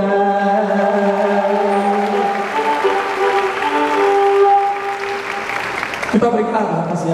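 A concert crowd in a shopping-centre venue applauds and cheers under a sustained musical chord and singing, the sound swelling before ending with a sharp hit.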